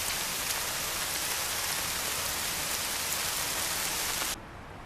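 Heavy rain pours steadily on Mount Roraima, one of the wettest places on Earth, a dense continuous hiss of downpour that cuts off abruptly near the end.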